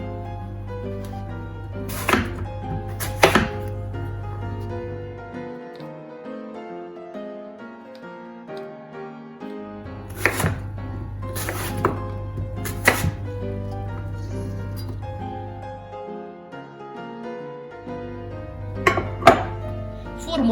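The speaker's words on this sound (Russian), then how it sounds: "яблоки нарезаю довольно мелко. Такими небольшими кубиками." Knife chopping apples into small cubes on a board for an apple pie, quick bursts of sharp, close taps separated by pauses, under background music.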